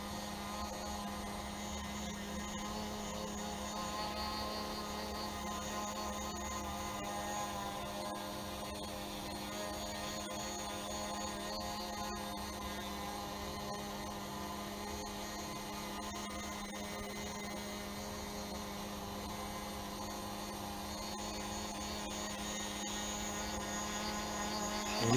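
A foldable tricopter drone hovers nearby in light wind, giving a steady, continuous motor and propeller whine with a constant tone throughout and no talking.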